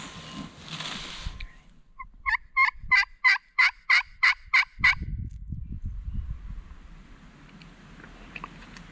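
A young male turkey, a jake, gobbles in a rapid run of about eight evenly spaced, loud notes during a turkey hunt, followed by rustling and handling noise.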